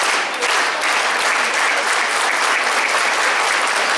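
A group claps together loudly and densely for several seconds in a classroom-style gathering, the claps merging into a continuous wash with no clear pulse standing out.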